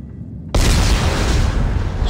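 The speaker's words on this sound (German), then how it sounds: "Dann wollen wir mal sprengen." A detonation in the video game Dead Space 3 erupts after a half-second of quiet, then a loud, sustained explosive roar and rumble fills the rest of the moment without any voice.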